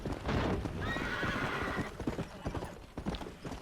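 Horse hooves clip-clop steadily in Red Dead Redemption, with a horse neighing loudly partway through, the whinny rising over continuous hoofbeats and ambient game sound.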